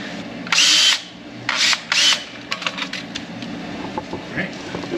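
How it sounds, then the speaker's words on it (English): Chamfer bit spun in a drill to deburr a cut pipe edge, with short loud whirring bursts of grinding followed by lighter scraping taps, up close. "Chamfer bit, we're going to go ahead and run this just to deburr the edge"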